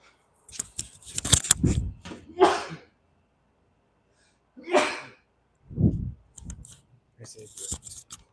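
A single sharp sneeze bursts out amid a few clicks and scattered voices, followed by brief talking.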